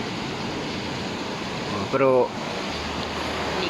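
Sea waves after a typhoon make a continuous broad roar and wash, steady and fairly loud throughout, with a brief spoken word cutting in partway through.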